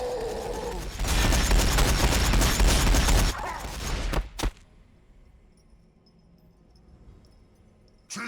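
Rapid gunfire pours onto a land speeder in a Warhammer 40,000 battle between Orks and Blood Angels, with a loud, dense burst lasting a few seconds before a sharp crack and near silence.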